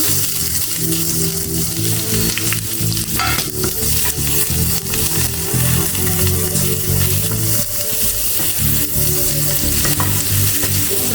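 Masala chicken fries loudly in a pan, a dense continuous sizzle with rough stirring and scraping running through it, close and unbroken throughout.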